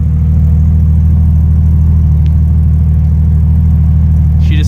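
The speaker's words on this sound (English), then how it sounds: "Listen to this thing idle." A stock Ford Barra inline-six idling at a drag racing event, a loud, steady low rumble close up, unchanging across the few seconds, with a faint click partway through.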